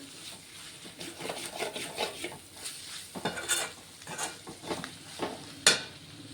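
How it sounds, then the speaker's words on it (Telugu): Onions and spices fry in a pan for an onion egg fry, a quiet sizzle under frequent spatula scrapes and light clinks against the pan, with one sharper metallic tap near the end. "ఇవన్నీ వేసుకున్నాను ఒక రెండు నిమిషాలు ఫ్రై అవ్వనిస్తాను ఇవన్నీ"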